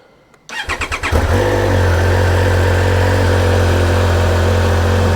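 A Triumph Speed Triple 1200 RS motorcycle engine cranks with a rapid series of starter pulses, then catches and settles into a loud, steady idle close by.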